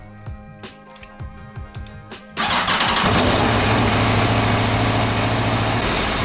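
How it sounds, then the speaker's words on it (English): An Aprilia Tuono motorcycle engine cranks and fires at about 2.4 seconds, then settles into a loud, steady idle that runs close by for the rest of the clip, after a few faint clicks and bumps in the quiet before it. "If I start the bike,"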